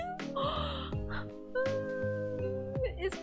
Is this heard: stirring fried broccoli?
no